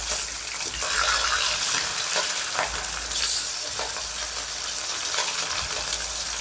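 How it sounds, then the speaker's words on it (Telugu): Fish pieces fry in a hot iron pan for a Bengali fish fry, giving a steady, close, continuous sizzle with faint crackles throughout and no talking. "సో ఇలా ఫ్రై చేసేసుకుందాం పీసెస్"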